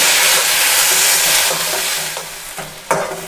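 Tomatoes sizzle and hiss while being sautéed in a pan for a tomato and mint chutney, with a steady loud frying crackle that eases off near the end before a brief stirring clatter.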